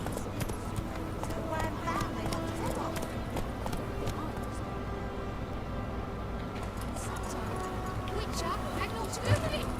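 Hooves of a video-game horse named Roach drum in a steady galloping clip-clop throughout, under continuous talk and game background sound.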